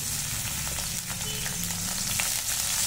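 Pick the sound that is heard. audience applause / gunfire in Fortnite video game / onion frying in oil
onion frying in oil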